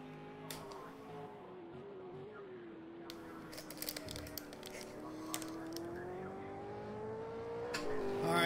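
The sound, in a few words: opponent race car engine in video game Project Cars 2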